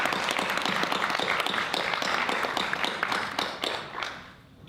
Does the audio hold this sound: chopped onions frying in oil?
no